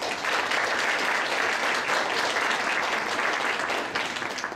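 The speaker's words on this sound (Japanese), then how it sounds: "最後にもう一度とっとこほの太郎チームの皆さんに拍手をお願いいたします" An audience applauding a team at a presentation contest, dense and steady clapping held at full strength throughout before trailing off slightly at the end.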